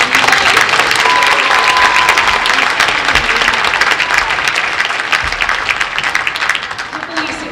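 A school concert audience claps for the all-city band musicians, a dense, loud round of applause that holds steady before tapering slightly at the end.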